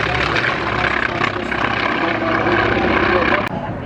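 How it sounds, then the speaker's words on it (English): North American airplanes passing at an air show, a steady loud propeller and engine drone filling the air, with a commentator talking over it. "You can tell they're North American airplanes."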